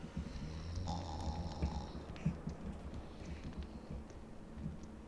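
A man snoring in the video game Sherlock Holmes: The Awakened, a low rumbling snore repeating under quiet game ambience, moderately close and fairly soft.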